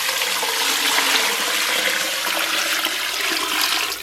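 Water splashes steadily into a cooking pot holding a pork knuckle and stir-fried seasonings, a continuous loud rushing pour with no talk.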